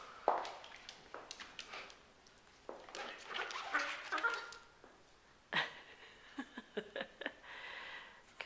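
A puppy yips and whimpers in scattered bursts while playfully chasing a cat around a room, with soft scuffling and patter between the cries.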